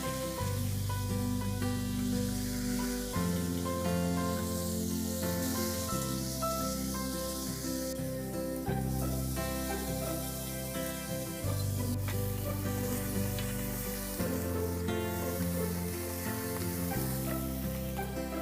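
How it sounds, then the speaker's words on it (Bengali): Crabs fry in hot mustard oil in a wok, a continuous sizzle heard faintly under constant background music. "তেলটা গরম হয়ে গিয়েছে। এবার কাঁকড়াগুলো দিয়ে দেবো,"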